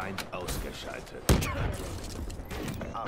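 Gunfire in the video game Call of Duty Black Ops III: a couple of short, sharp shots come through under and between excited talk from a player.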